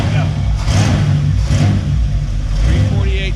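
A 348 tri-power car engine in a Houston-area barn collection, revving in loud, steady pulses with a low rumble throughout, while people talk close by.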